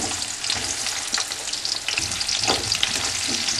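Artichokes hit hot oil with garlic and chilli that has just turned golden in a pan, giving a steady close sizzle and crackle with occasional stirring scrapes, no talking.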